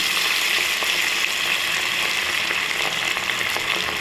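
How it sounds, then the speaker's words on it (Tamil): Beef pieces frying in hot oil, a loud, dense, continuous sizzle with crackling pops running evenly throughout. "எண்ணெய் நல்லா காஞ்சிருச்சு இப்போ வந்து நம்ம ஒவ்வொரு பீஃபாக எடுத்து போட்டுக்கலாம்"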